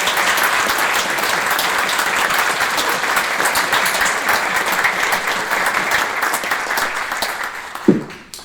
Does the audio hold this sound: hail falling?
no